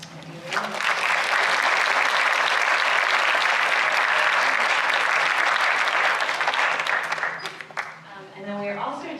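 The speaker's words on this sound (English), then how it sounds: "So maybe we just have a round of applause for Demian." An audience at a talk on art and land relationships breaks into loud, sustained applause that swells quickly, holds steady for several seconds, then fades out.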